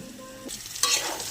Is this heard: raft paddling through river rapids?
no